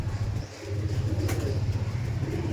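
Giribaj pigeons cooing in a loft, a low, throaty rolling coo that pulses steadily throughout, close and moderately loud, with no talking.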